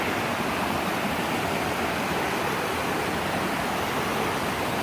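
Steady broadband rush of Crystal Creek's water flowing downstream, continuous and fairly close, with no voices.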